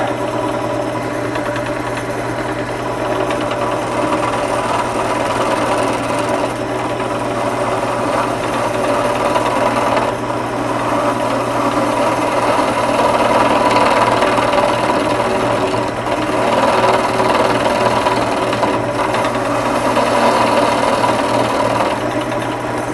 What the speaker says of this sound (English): So I'm going to be making a shear cut, sort of from the middle in.